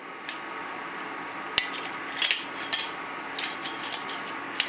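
A teaspoon clinks and scrapes against a vessel while mixing gypsum into brewing water for a coffee porter, giving a scatter of light metallic ticks and taps of varying loudness, close by with no talking.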